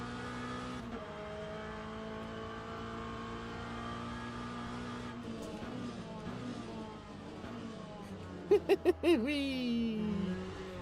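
Race car engine in the Le Mans Ultimate sim while warming tyres, a steady droning tone that shifts pitch as it weaves, then a few quick sharp revving blips near the end.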